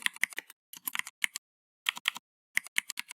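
Someone types C code on a computer keyboard in quick bursts of crisp, close key clicks separated by short pauses, with no voices.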